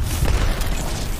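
A muffled, booming explosion from the video game Apex Legends rumbles low and loud for about a second, heavy and dull without sharp detail.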